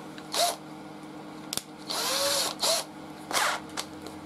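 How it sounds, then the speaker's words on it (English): An electric drill with a 1.5mm bit whirs in several short bursts of a second or so, drilling a small hole in a scroll saw workpiece, with brief pauses and a sharp click between them, close by. "So all I'm going to do is drill a small hole in the middle"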